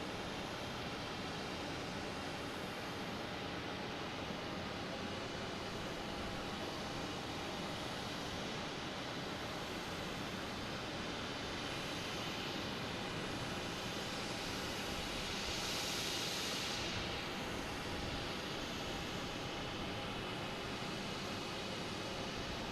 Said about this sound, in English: we got a JetBlue coming in from Buffalo, an A220, flight 716